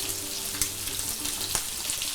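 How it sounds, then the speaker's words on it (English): Thin lamb slices sautéing over high heat in a hot pan give a steady, close broadband sizzle, with two brief louder crackles standing out partway through and no talking. "Give me a little sizzle."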